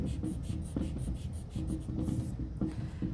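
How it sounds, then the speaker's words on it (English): Rapid back-and-forth scratchy rubbing strokes, close and fairly quiet, as an eraser works over a pencil drawing of window panes, in short repeated bursts with a brief pause near the end. "I'm going to erase this."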